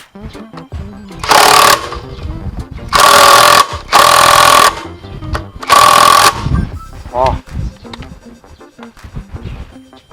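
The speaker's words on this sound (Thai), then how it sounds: "ตัวนี้เบอร์สิบเจ็ด ตัวนี้ก็ใช้บล็อกไฟฟ้าได้" An electric impact wrench drives a 17 mm bolt during a belt change on a Honda Forza 300: four loud, close hammering bursts, each about a second long, with quieter clinks and handling noises between and after them.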